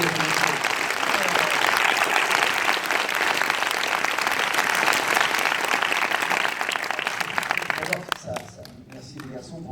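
An audience applauds at a film premiere screening of Camping 3 with its star present, a dense sustained roar of clapping that fades out near the end as a voice begins to speak.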